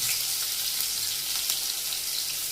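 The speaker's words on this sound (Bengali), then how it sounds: "জিরের ফোড়ন দিয়ে এখন কিছু পেঁয়াজ আর রসুন দিয়ে আর থেতো করা পেঁয়াজ রসুন" Crushed onion and garlic fry in a cumin tempering, producing a loud, steady, hissing sizzle that fills the whole short stretch without pause.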